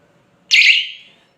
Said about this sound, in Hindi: तो ये जब सिंगल बीप की आवाज़ आई,